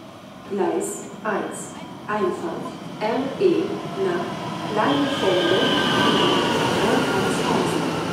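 A train rolls into Nordhausen station via Nordhausen West, its steady rail rumble building and holding with wheel squeal, while passengers talk over it in short bursts.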